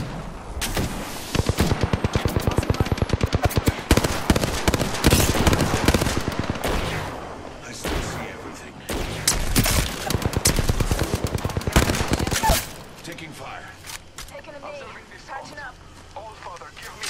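Rapid bursts of automatic weapon fire in the Apex Legends shooter game, loud and repeated through most of the stretch before quieting, with voice lines and player talk mixed in.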